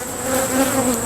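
Aggressive honeybees swarm around an open hive, making a loud, close, continuous buzz that holds a steady drone throughout.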